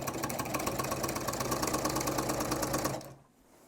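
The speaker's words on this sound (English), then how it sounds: "I'm just going to sew down a little bit so that we can kind of pull the corner" A home sewing machine stitches the corner of a reversible fabric table runner in one steady, close whirring run that stops abruptly near the end, leaving near silence.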